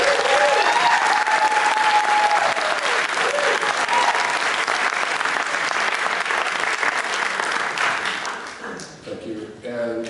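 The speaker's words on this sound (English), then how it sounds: "let's give him a round of applause" An audience gives a speaker a round of applause, loud dense clapping filling the room before thinning and tapering off near the end, with a voice briefly heard over it.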